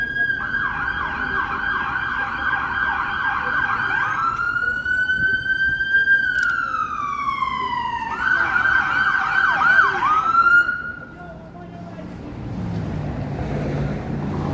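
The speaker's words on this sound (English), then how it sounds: "Just wait for the loud sirens to pass by here." Loud emergency sirens wail and yelp nearby on a downtown Toronto street on a Friday evening, shifting between rapid warbling and long rising-falling tones, then fading abruptly as the vehicle passes.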